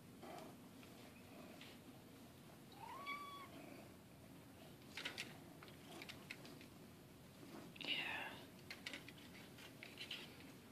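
A house cat gives two faint meows several seconds apart, with light scratching and rustling between them in a quiet room.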